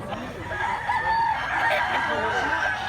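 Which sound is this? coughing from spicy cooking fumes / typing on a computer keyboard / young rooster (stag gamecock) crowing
young rooster (stag gamecock) crowing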